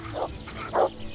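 A dog gives two short barks during a fight in the video game Kingdom Come Deliverance, close and moderately loud with a brief pause between them.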